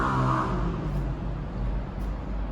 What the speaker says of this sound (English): please excuse any noise that you might hear again today, as I really cannot control the traffic